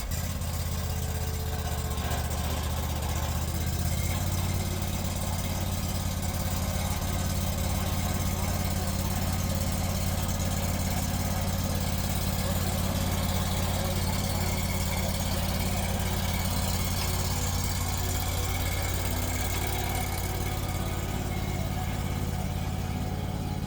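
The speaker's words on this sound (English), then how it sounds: "So go ahead and start the engine." Wright commercial stand-on mower engine running steadily at idle, a continuous low droning hum that stays loud and even throughout with no clear start-up burst.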